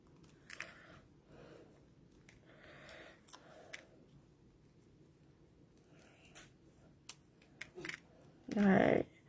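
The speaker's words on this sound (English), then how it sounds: "I'm just going to use my scissors, but you could use your Take-A-Pick tool to pop out all of these tiny little pieces" Scissors snip tiny paper pieces out of a handmade card, a series of quiet, sharp cuts spaced apart in a calm room, ending with one louder dull thump.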